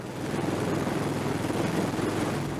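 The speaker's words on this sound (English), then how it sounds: "the V-22 Osprey, which combines fixed wing speed and helicopter adaptability," A V-22 Osprey tiltrotor aircraft in flight, giving a steady, dense rotor and engine drone with a low rhythmic throb, held at an even level throughout with no voices.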